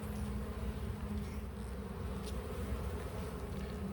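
Honey bees buzzing from an opened beehive, a dense, steady drone close by with no talking.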